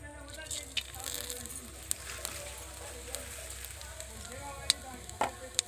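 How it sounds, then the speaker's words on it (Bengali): Whole five-spice seeds, dried red chilli and a bay leaf hit hot oil left over from frying hilsa fish, giving a steady close sizzle scattered with sharp crackles and pops. "এবারে আমি মাছ ভাজার তেলে ফোড়ন দিয়ে দিচ্ছি 5 ফোড়ন, শুকনো লঙ্কা আর একটা তেজপাতা।"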